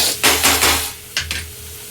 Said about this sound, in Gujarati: થઈ ગયો આપણો વઘાર